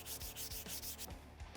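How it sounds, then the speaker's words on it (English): Rough, rhythmic rubbing strokes of sandpaper on a Winchester Model 190 rifle's wooden buttstock, repeating steadily at close range with no voices. "just a matter of grabbing some sandpaper and sanding away."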